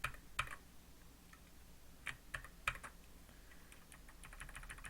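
Keyboard shortcuts tapped on a computer keyboard while editing code in VSCode, a few sparse, quiet key clicks spaced over several seconds with no talking.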